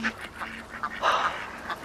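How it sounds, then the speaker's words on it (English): Ducks on a lake, a few scattered quacks and calls close by over a quiet outdoor background. "Ducks on the lake."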